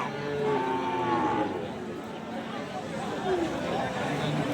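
Cattle lowing at a busy livestock market, including red-coated animals, with drawn-out moos rising over a steady crowd hubbub and nearby people talking.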